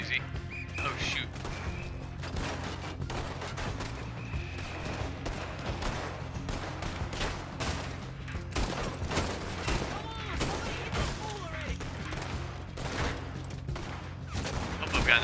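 Rapid video game gunfire crackles almost nonstop in dense bursts and volleys, with sharp repeated shots and occasional crashes filling the whole stretch, while a voice speaks now and then over the shooting.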